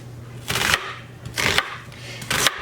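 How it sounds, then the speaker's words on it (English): Potatoes and half a peeled yellow onion being grated by hand for German-style potato pancakes, three separate rasping bursts with short pauses between them, close and fairly loud over a steady low hum. "so we're gonna just grate these, and in the middle of all the potatoes, I'm also going to grate half of a yellow onion that I peeled."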